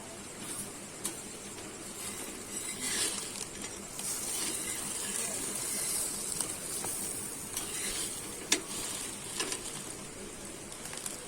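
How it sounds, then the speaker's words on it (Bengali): An egg-coated paratha fries in oil in a pan for a Kolkata-style chicken roll, giving a steady, close sizzle and hiss with a few sharp crackles and no talking. "আমি কিন্তু ভালোভাবে ভেজে নিয়েছি, 2 পিঠই কিন্তু আমার ভালো করে ভাজা হয়ে গেছে।"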